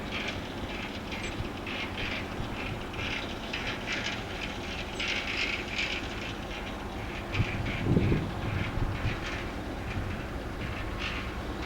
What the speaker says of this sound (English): 60055 is seen working 6 Zulu 61 from Middleton Towers to Ravenhead